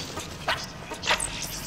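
A virtual dog in an HTC Vive VR game gives two short barks or yips, close by and moderately loud. Someone speaks in French around them, with a faint steady background.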